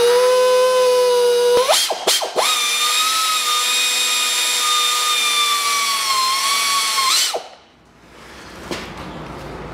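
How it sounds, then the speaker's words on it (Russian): A cordless power screwdriver drives an ordinary roofing self-tapping screw during a timing-belt job on a 2000 Toyota Noah with a 3S-FE engine, giving a sustained whining motor drone with brief stutters near the start before it winds down. "Закручиваю саморез."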